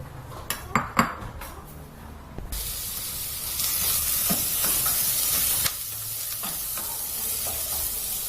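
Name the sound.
sautéing onions in olive oil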